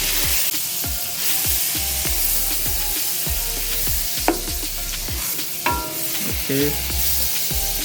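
Garlic butter melts in a pan over the lowest heat, a steady soft sizzle running throughout with a regular series of clinks and scrapes from a utensil; a voice speaks briefly.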